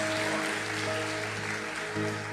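A church congregation applauds in a steady, dense wash of clapping, loud and sustained throughout, with a low organ-like tone held underneath.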